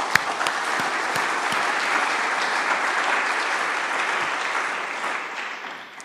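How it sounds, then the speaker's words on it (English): An audience at Urbaniana University welcomes two archbishops with a full round of applause, many hands clapping loud and sustained, then tapering off toward the end. "join me in giving them a round of applause"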